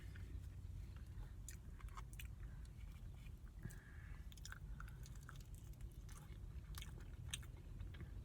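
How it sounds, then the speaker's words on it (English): Someone chewing stuffed grape leaves in a parking lot, close and quiet wet mastication with soft crunches and squishy bites repeating steadily over low background hum. "Eating grape leaves in a parking lot."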